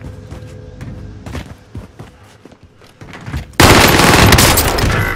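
Sustained automatic gunfire in a Call of Duty Warzone match on Rebirth Island, scattered shots and thuds building to a loud, dense burst of fire that continues to the end.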